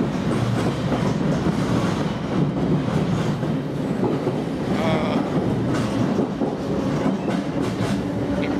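A London Underground train rumbles past with continuous rolling wheel noise and a rhythmic clickety-clack, loud and close, with faint squeals over the steady roar.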